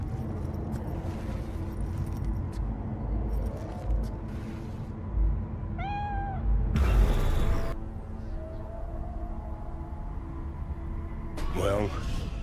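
A cat meows once in Cyberpunk 2077, a short rising-and-falling meow near the middle, with a second brief meow-like call near the end, over game background ambience and music.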